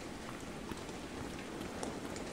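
Quiet, steady rainfall in the skateboarding game Session, a broad hiss with scattered faint drop clicks and no voices over it.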